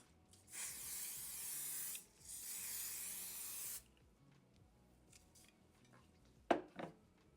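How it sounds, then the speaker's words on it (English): Two long hissing bursts of Sebastian firm-holding hairspray aimed at a lace wig, close and loud, then quiet with a few faint handling taps and a short clatter at the end. "go in with a medium to kind of firm holding spray. This is the Sebastian"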